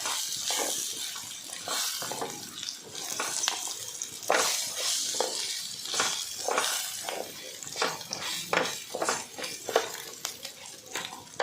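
Rice grains tossed and stirred in a pan with ghee and cumin, a dry sizzle broken by repeated scraping and clinking strokes of the spoon against the metal, close and fairly loud.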